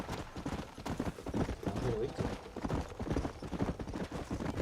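Galloping horse hooves in Red Dead Redemption, a steady fast clip-clop rhythm close by, running under continuous talk.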